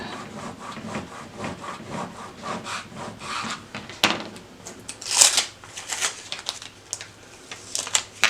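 Transfer tape carrying gold vinyl being peeled up and laid onto a drinking glass, heard as a run of close, dry rubbing and crackling scrapes with a few sharper peeling snaps, no talk.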